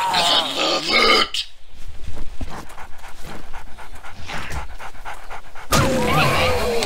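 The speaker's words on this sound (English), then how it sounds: "Why another dog? Why are you so loud?" A dog in the 7 Days to Die video game pants and growls harshly and loudly in bursts, with short gaps and game noise between.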